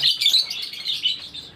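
Two lovebirds chatter with rapid high-pitched chirps and twittering, continuous and close, with no talking.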